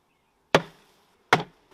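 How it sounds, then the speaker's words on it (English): A wooden beehive frame is banged on top of the hive box twice to knock bees off, each sharp thud loud and close with a short decay, followed by the start of a third knock. "Bees are exoskeleton, so we can just bang this on the top here."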